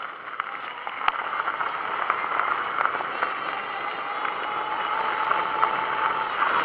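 Fat tyre electric bike, its hub motor boosted from 36V to 52V, pulling away hard on throttle: a steady mid-pitched motor whine with rattly mechanical ticking and wind rush, sustained and fairly close, with no talk.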